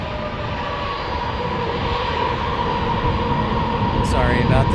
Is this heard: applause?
no